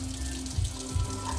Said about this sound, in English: So just gonna rinse this off a bit.